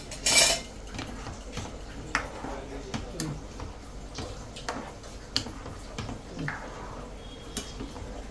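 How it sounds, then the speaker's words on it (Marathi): A spoon stirs chicken kurma in a pot, giving sparse, irregular metallic clinks and taps against the vessel over a quiet kitchen background, with one sharper rattle near the start. "चांगलं हलवून घ्यायचं"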